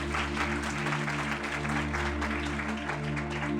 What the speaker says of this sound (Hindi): बजाएं, जोरदार तालियां